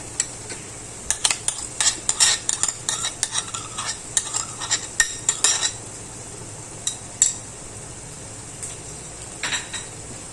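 A spoon stirring yogurt into biryani masala in a pot, with repeated sharp scraping and clinking strokes in quick bursts over a low background sizzle, trailing off into a few last scrapes.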